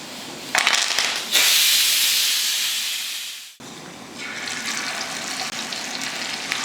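A pressure cooker on a gas stove vents steam in loud, steady hisses, one long rising burst that cuts off abruptly, followed by a second sustained hiss close by.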